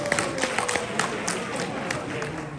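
Audience applause at a Star Wars Celebration panel on the Ewok Adventure films, dense clapping from a large crowd that stays steady and fairly close, with loud individual claps standing out for under three seconds.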